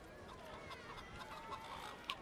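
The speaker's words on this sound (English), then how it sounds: "Look at the roosters and chickens." Faint chickens and roosters cluck softly in the distance in the video game Divinity: Original Sin, over a steady low background hum, a few scattered clucks.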